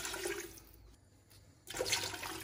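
Two cups of water pour into a slow cooker in a steady splashing stream, pausing briefly, then resuming louder, close up with no talking.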